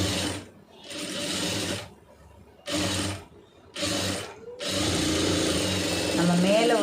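A sewing machine stitching a blouse, running in several short bursts separated by pauses and then a longer continuous stretch, close and fairly loud, with someone talking between runs.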